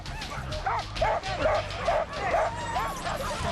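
Sled dogs at the Iditarod race start in Willow in 2008 bark and yip excitedly in quick, repeated bursts, close by, with people talking in the background.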